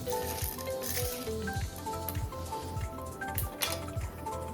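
Mustard seeds and fenugreek seeds sizzle steadily in hot oil for a Telugu fish pulusu curry, with close clinks and scrapes of a pan and utensil over the continuous frying hiss.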